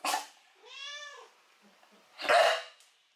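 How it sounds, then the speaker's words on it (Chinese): A cat meows once on request, a clear drawn-out call in the middle, set between short bursts of other noise at the start and end. "好吧，叫一个，大黄叫一个，叫。"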